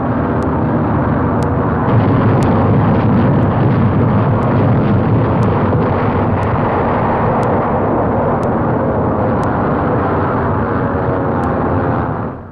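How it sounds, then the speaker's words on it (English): Wartime bombing of the 1944 invasion area in France: a continuous heavy roar of aircraft and explosions, loud and sustained, with a series of sharp periodic clicks running over it. "the merciless pounding of the entire invasion area continues."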